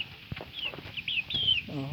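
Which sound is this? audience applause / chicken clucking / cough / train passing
chicken clucking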